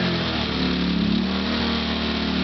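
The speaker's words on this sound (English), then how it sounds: "I'll go ahead and start up one of the CPE generators here." A CPE 2000-watt inverter generator runs close by with a steady mid-pitched engine drone and a slight surge in speed partway through, alone with no talking.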